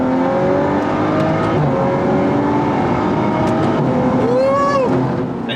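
BMW car engine revved hard in first gear during a stress test, a loud continuous roar rising in pitch, heard from close range with a brief higher whine near the end.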